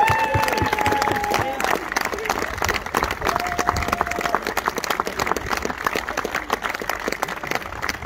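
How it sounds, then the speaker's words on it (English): A crowd gives a round of applause for Steve Whiting at a championship, with steady clapping and cheering that continues throughout under some voices. "another round of applause for this man"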